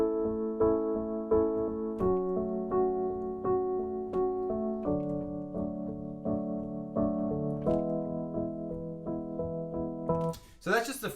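Solo piano plays the opening verse of a song, steady repeated chords over a low bass line, close and moderately loud, with a brief rustle at the very end.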